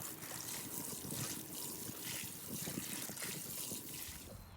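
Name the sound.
watering potatoes in a container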